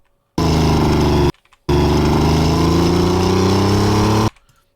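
A loud engine revs and burbles as it winds down, cutting out briefly before a long, steady rumbling drone returns.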